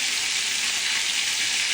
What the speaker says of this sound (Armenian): Հիմա տապակեմ, տապակը արդեն պատրաստ է, տապակեմ տապակի մեջ